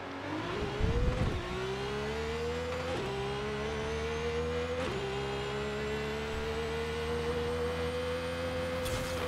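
A drag-tuned 1200 hp racing V12 in a Ferrari 575M Maranello in Forza Horizon 5 pulls hard through a roll race. The engine note climbs steadily, with short dips at each gear change, loud and continuous.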